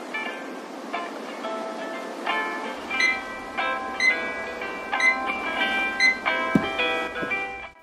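A weekday morning alarm rings with a melodic electronic chime, bright tones repeating in a quick, rising pattern, fairly loud and close, running on without any talking.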